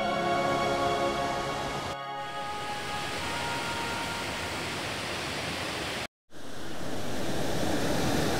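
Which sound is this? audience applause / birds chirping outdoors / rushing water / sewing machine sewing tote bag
rushing water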